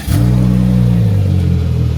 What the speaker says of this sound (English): Go ahead and turn on the vehicle.